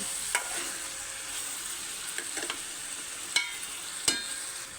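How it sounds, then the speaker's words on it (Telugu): Brinjal pieces fry gently in a pan while being carefully turned, giving a steady soft sizzle with a few brief scraping clicks from the stirring spoon. "ఇప్పుడు లైట్గా ముక్కను కొద్దిగా తిప్పుకుందామండి."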